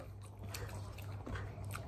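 Close, crisp crunching bites with wet chewing, several in quick succession, no talking.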